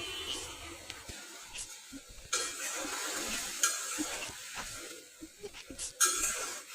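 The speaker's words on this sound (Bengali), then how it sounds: "দিয়ে এটা আমি সুন্দর করে নাড়িয়ে চাড়িয়ে অনেকটা টাইম ধরে রান্না করতে থাকবো।" Taro (kochur mukhi) being stirred through frying spice masala in a pan: a soft hissing sizzle broken by repeated scraping strokes and clinks of the spoon, close and moderately quiet, with no talking.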